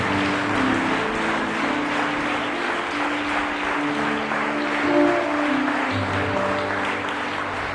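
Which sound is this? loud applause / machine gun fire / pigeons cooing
loud applause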